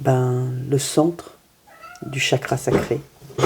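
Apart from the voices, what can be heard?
cat meowing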